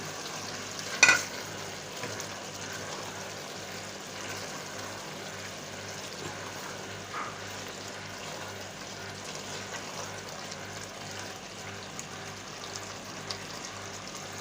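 Chicken added to a pan of softened onions and tinda in a Pakistani-style chicken tinday salan, sizzling steadily and quietly throughout, with a brief louder clatter near the start.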